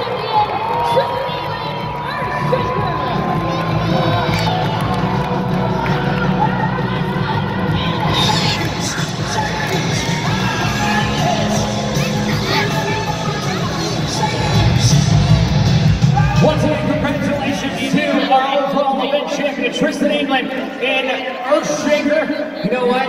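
A large arena crowd at a Monster Jam freestyle event in Omaha cheers and shouts in a sustained roar, with a loud announcer voice talking over it and the noise swelling near the end.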